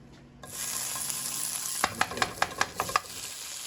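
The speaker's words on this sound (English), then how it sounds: "now that we got our chorizo ready, now all we got to do is just throw it in the pan" Chorizo sizzling in a hot pan, a steady loud hiss that starts abruptly, followed by a series of sharp scraping stirs at a regular pace near the end.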